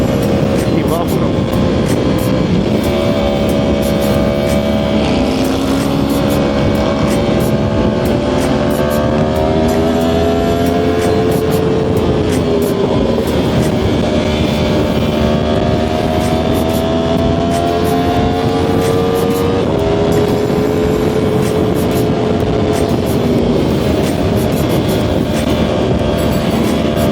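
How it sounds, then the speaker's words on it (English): A motorcycle at speed on the road roars loudly from its exhaust, engine pitch climbing and dropping through gear changes over a constant rush of wind. "I don't know if you can hear that exhaust from back here, man."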